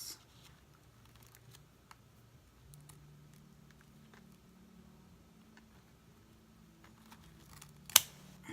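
Scissors trim a Dollar Tree Halloween skeleton wreath with quiet, scattered snips and light handling taps, ending in one sharp, close cut near the end, with no talking.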